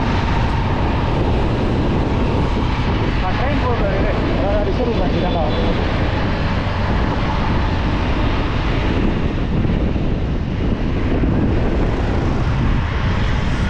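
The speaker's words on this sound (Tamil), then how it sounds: "இந்த பாலத்தில் நீங்கள் பார்த்தீங்கன்னா தெரியும், ஒரு ட்ரெயின் ஒன்று இப்போ போச்சு" A train crossing a bridge in Chennai makes a continuous heavy rumble that rolls on steadily, mixed with wind noise and faint voices.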